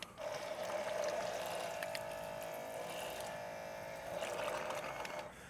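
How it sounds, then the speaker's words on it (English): Water runs from a small on-off faucet on a camping or overlanding setup, a steady close hissing stream that flows for several seconds with slight shifts in pitch, heard on its own. "Had air in the line, but you've got a little on-off water faucet right there."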